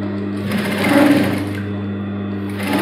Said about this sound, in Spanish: ya estamos en la máquina de coser, le pasamos el pespunte